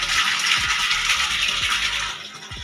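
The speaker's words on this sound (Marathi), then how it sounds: "ते सध्या पाणी चालू आहे" Water from a motor pump pours steadily into a household storage tank, a close, continuous rushing splash with a few low knocks underneath, no talking.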